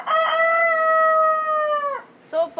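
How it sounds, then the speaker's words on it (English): A roaming rooster in Cape Coral crows once, a long loud sustained call held for about two seconds, followed by a brief start of another call. "The song of a lost rooster."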